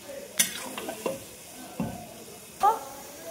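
Mixed vegetables for a niramish ghonto are stirred in a pot with a little water: a few separate scraping, clattering strokes, quiet and close, with faint bubbling between them.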